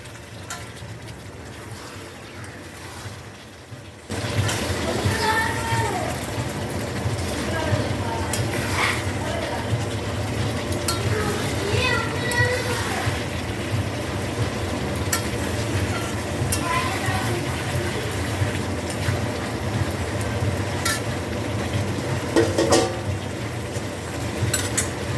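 Chicken with green chili paste sizzles and fries in a pan, stirred steadily with a spoon scraping and clinking against the metal. A brief quiet start gives way to continuous frying with scattered clatter and no talk.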